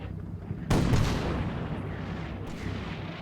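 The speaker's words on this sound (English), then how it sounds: "Our Katyushas will be firing another salvo." A Katyusha rocket artillery salvo in the World War II wargame Combat Mission, set in Poland in 1945, lands as a sudden heavy boom followed by a long rumbling roar that slowly fades.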